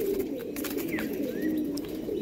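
Andhra pigeons coo in a steady, low, throbbing drone that continues throughout, with a couple of faint, brief chirps rising above it.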